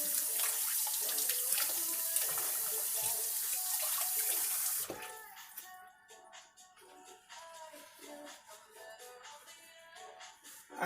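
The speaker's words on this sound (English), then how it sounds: "Wash the hands again." Hands being washed under a running tap, with steady loud water splashing into a sink for about five seconds, then the flow stops and quieter rustling and clinks follow.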